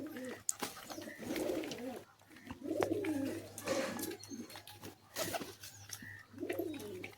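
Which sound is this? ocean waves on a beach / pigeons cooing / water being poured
pigeons cooing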